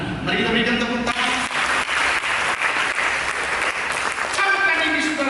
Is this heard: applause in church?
yes